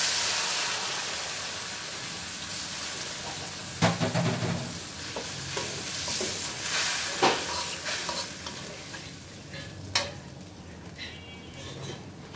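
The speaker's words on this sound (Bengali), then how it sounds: "মশলাটা সুন্দর করে কষিয়ে নিব।" Ground chilli, turmeric and water being stirred and fried with potatoes in a pan, a soft continuous sizzle broken by scraping spatula strokes and a few sharper clinks, quiet and close, no talking.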